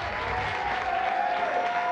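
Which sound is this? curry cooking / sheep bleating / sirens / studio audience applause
studio audience applause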